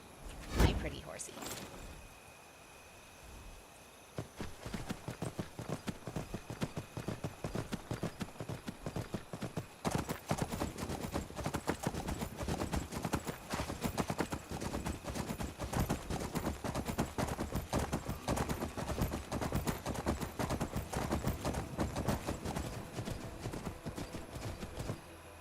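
Horse hooves clip-clop in a steady, rapid rhythm while riding in Skyrim, a continuous galloping patter that goes on and on, with a voice talking over it at times.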